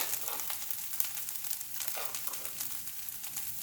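Dried fenugreek leaves sauté in a tomato masala for a paneer dish, making a soft, steady sizzle with faint crackles and light stirring ticks, fairly quiet and without speech.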